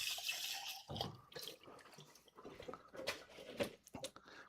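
Tap water running into a sink for a quick rinse, a soft continuous splashing with scattered drips and clatters, fairly faint.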